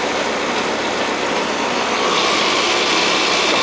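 Old Ruud AC compressor in poor condition running with a steady broadband whir and hum, loud and close, slightly rising in the second half.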